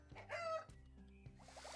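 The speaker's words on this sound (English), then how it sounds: "Hi, chicken." Game chicken clucking in No Place Like Home, a short run of bright, harmonic clucks up close in the first half, followed by quieter clicks and chirpy game sounds.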